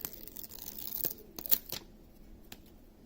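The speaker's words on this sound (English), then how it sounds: "Now, you peel the back off." Backing peels off a Badge Magic adhesive patch sheet in a few short, crisp tearing and crinkling bursts, close and fairly quiet, with brief pauses between pulls.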